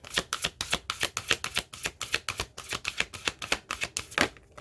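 Moonology oracle cards being shuffled in quick, rhythmic riffles, a steady run of close crisp flutters and snaps with no talking.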